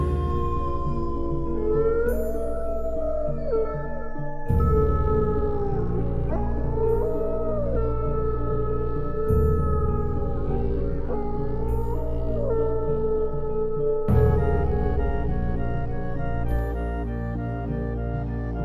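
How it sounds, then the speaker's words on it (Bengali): Long, wavering howls of distant jackals overlap in a continuous chorus, rising and falling in pitch, with no talking. "দূর থেকে ভেসে আসছে শিয়ালের ডাক।"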